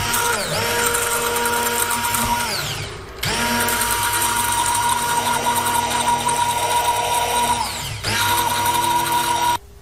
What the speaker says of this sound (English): Next, we'll use a blender to blend this into.